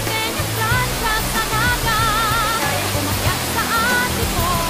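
Water flowing near a trail at Mount Banahaw, a dense steady rushing wash that fills the whole stretch, with faint birdsong and a low hum beneath it.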